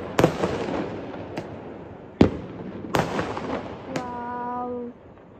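Diwali firecrackers burst outdoors in a series of sharp, echoing bangs a second or so apart. One is followed by a rising whistle that fades, with no talking.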